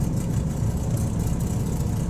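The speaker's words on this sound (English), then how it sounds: "2016 370z Nismo with nothing more than exhaust modification." A 2016 Nissan 370Z Nismo with only an exhaust modification, its engine giving a steady low, throaty rumble close by, with no talk over it.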